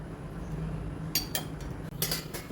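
A metal lid settles onto a cooking pot of simmering matki usal over a medium flame, giving a few bright clinks and a short rattle that stand out against a steady low background hum.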